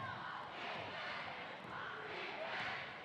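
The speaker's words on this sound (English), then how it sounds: "The crowd really getting into this late into the game" A crowd cheers and roars steadily in a gym late in a senior girls' high school basketball game, a sustained wash of voices throughout.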